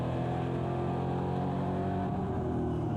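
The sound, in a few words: V8 race car engine, NASCAR Whelen Euro Series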